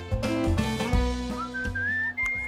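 A melodic whistled tune from the video game Where the Water Tastes Like Wine plays clearly, with gliding pitches and short phrases.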